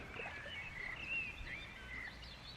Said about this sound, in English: All I can hear is birdsong.